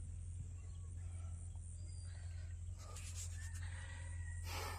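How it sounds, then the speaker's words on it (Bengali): A domestic desi drake calls with a few rough, gobbling quacks, moderately near, over a steady low hum and faint background noise. "ওটা হইলো বেটা হাঁস।"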